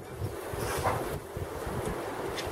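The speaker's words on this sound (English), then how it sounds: "It is windy today" Gusty wind buffets the microphone on an allotment with low rumbling bursts and a steady broadband rush, continuous throughout.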